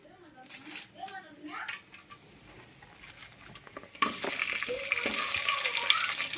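Onion and pulao spices frying in oil while being stirred, a soft sizzle and scraping under a voice at first, then a louder, dense sizzle swelling from about four seconds on as the ingredients hit the hot pan.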